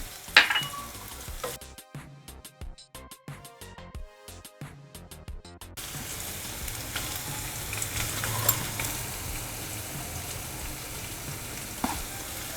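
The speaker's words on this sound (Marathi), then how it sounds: "हा कांदा छान थोडा फ्राय करून घेतला कढीपत्ता घातला" Chopped onion and curry leaves frying in a pan for Maharashtrian ukadpendi, a steady close sizzle with stirring, preceded by a stretch of rhythmic clatter.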